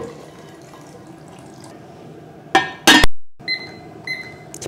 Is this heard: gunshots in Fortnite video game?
no